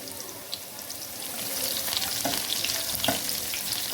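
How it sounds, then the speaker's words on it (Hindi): Chopped onion fries in ghee over a low-medium flame for chow mein, giving a steady, close hiss of sizzling fat with faint crackles and small stirring ticks throughout. "तो इसी घी में हम सबसे पहले थोड़ा सा प्याज को डालते हैं।"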